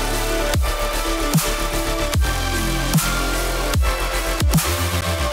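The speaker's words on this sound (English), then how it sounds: "Put overdrive on." An overdriven bass synth plays a punchy repeating pattern of gritty, distorted notes with pitch-dropping attacks, loud and upfront with no voices.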